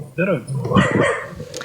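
A dog barks a few times in the background, short yelps and bow-wows sitting beneath a nearby person talking.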